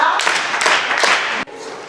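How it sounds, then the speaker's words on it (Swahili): An audience claps together at a community gathering on an alternative rite of passage for girls in Meru, a loud, dense burst of hand claps lasting about a second and a half before breaking off and dropping to a softer patter. "wapige makofi"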